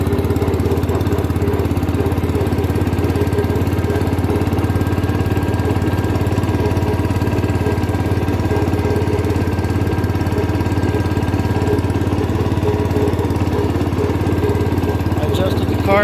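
A 1971 John Deere 120 lawn tractor engine runs steadily at a loud, even idle, with choke off after a carburetor adjustment and a new head gasket; the low drone continues without change and with no talk.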